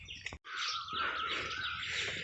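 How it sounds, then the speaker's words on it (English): Dense chorus of birds chirping and tweeting in a morning forest on a trekking trail in Jammu, bright overlapping calls close by after a brief pause near the start. "You must be hearing the sounds of bird chirping."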